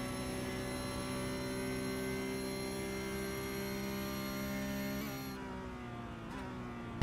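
A steady, high-pitched Porsche Cup racing engine in a sim racing game drones with a bright harmonic whine down a long straight for several seconds, then drops off as the revs fall.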